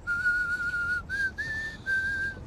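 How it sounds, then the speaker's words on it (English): A person whistles a song during a karaoke session in Helsinki: a clear, close melody of held notes broken by short pauses, heard alone with no talking. "We can do the whistling song."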